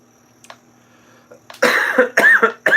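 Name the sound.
cough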